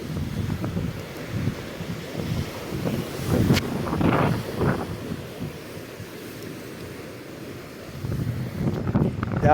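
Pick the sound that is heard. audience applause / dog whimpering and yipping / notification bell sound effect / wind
wind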